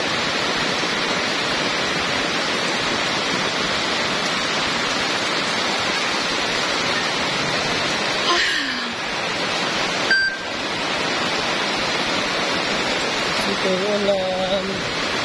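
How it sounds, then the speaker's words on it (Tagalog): Heavy rain pours down in a steady, loud hiss throughout, with a couple of brief electronic beeps and a faint voice near the end. "Ulan. Lakas na ulan."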